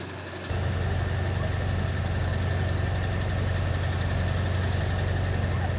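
A big portable generator runs outdoors, a steady loud low-pitched drone with an even engine rumble that starts abruptly and holds unchanged throughout.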